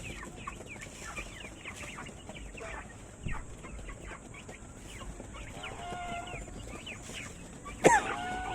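Backyard chickens raised at home cluck in a busy, overlapping chorus, with scattered calls from several birds over a steady farmyard background and one louder squawk near the end.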